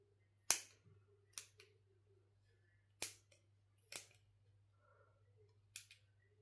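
Scissors snip paper from underneath in a quiet room, several separate sharp crisp cuts spaced out with short pauses, each snip close and clear over a low steady hum.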